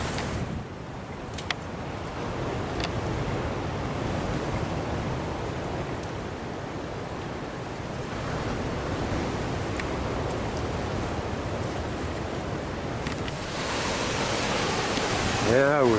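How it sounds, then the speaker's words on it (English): A constant wash of flowing water, broad and steady like surf or a rushing stream, moderately loud, with faint voices now and then. "So, I hear water."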